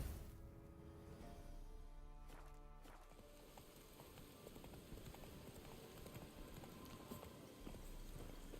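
A horse galloping in The Witcher 3 video game, steady rhythmic clip-clop of hooves close by and fairly faint, running continuously over a soft ambient background after a brief musical swell.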